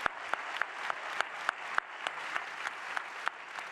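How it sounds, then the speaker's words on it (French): An audience claps at a round-table event on the building trades, steady moderately distant applause with sharp individual claps standing out, no voices. "J'aimerais qu'on applaudisse ce projet qui est remarquable."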